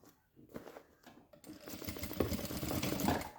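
Sewing machine stitching a jewelry pouch with lining: a few short needle bursts, then a continuous, steady, quiet whirring run of stitches close by.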